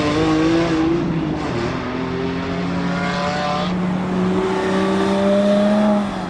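A Lamborghini Diablo's engine revs in a racing video game, its rising and falling harmonic whine steady and loud across the whole stretch, with tire noise and no talking.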